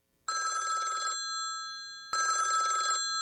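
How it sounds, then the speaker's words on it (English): A red military hotline telephone rings loud and close in two long electronic bursts with a short pause between, no voices over it. "When this red phone rings, a 4-star general or the President of the United States is supposed to be calling."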